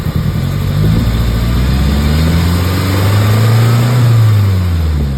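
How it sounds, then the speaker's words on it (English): Nissan 240SX engine, loud and close, revving up from idle with rising and falling engine tones over a steady rumble, no talking. "If I rev it up"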